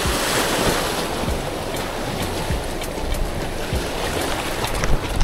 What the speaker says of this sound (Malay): Angin boleh tahan padu.